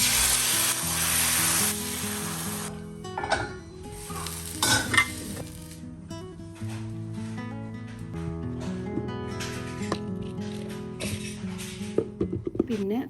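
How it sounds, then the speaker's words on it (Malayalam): Cashews and raisins frying in ghee, a close sizzle with stirring scrapes from a utensil against the pan, while a person talks over it and the sizzle fades and returns. "ഇനി കുറച്ച് നെയ്യിൽ അണ്ടിപ്പരിപ്പ് മുന്തിരി ഇട്ടിട്ട് ഒന്ന് വറവിട്ടെടുക്കണം"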